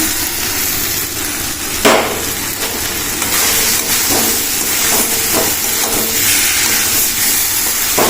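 Soybean chunks frying in a hot pan with masala, giving a loud, dense, steady hiss of sizzling oil with a brief sharp knock partway through, close and continuous, no talking.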